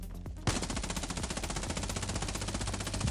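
Rapid automatic gunfire in a Scarfall battle royale shootout, a dense, steady burst of shots starting abruptly after a short pause and continuing loud and close for about three seconds, with no voices.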